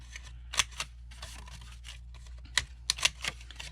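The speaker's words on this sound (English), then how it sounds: "how I want to round the corners, because I think most Rolodex cards are rounded" Corners of index cards are rounded with a cutter, giving sharp close snips and clicks in uneven clusters with quiet handling sounds between them.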